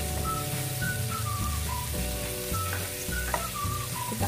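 Crushed garlic sizzles in melted butter in a pan, a steady close frying crackle with a low hum and faint whistling tones beneath it.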